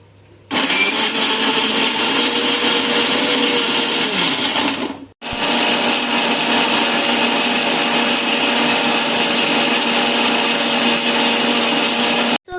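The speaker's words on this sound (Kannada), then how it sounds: "ಉಳ್ಳಾಗಡ್ಡಿ ಟಮಾಟಾಗ ಮತ್ತ ಕೊಬ್ಬರಿಗ ಮಿಕ್ಸರ್ನಾಗ ಗ್ರೈಂಡ್ ಮಾಡ್ಕೋಬೇಕು" A kitchen mixer grinder whirs loudly, grinding onion, tomato and coconut for Kolhapuri mutton, with a brief stop midway before running steadily again close by.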